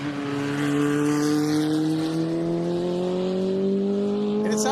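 A race car engine with induction and camshaft changes and a remapped fuel injection system roars loud and close at the American Speed Festival on the M1 Concourse Speed Ring, rising steadily in pitch as it accelerates.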